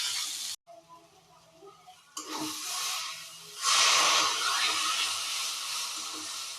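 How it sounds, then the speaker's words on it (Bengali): A paste of tomato and green chili is frying in a pan. After a brief break it sends up a loud hissing sizzle that swells louder partway through and stays close and steady. "আমি এখানে টমেটো আর কাঁচা লঙ্কার পেস্টটা দিয়ে দিয়েছি"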